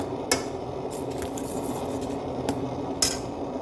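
Stirring vegetable pasta with pink salt in a pan, soft scraping under a few sharp clinks of a utensil striking the pan, quiet and close.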